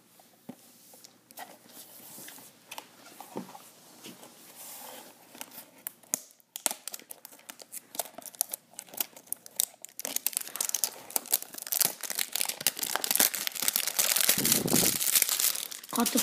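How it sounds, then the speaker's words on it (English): Crinkly plastic wrapping is pulled and torn off a vinyl blind box mini figure, sparse crackles at first building into dense, close crumpling toward the end. "Got the plastic off."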